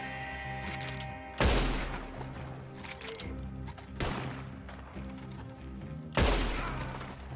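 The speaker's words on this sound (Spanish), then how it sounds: "A ver de dónde viene el disparo" Three loud gunshot blasts in Red Dead Redemption Online ring out at spaced intervals, each with a sharp crack and a fading tail, over a quiet electronic game background.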